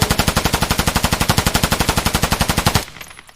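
An MK47 Mutant rifle in Escape From Tarkov fires a long, loud, close automatic burst of about thirty rapid, evenly spaced shots, then stops abruptly and a short tail fades out.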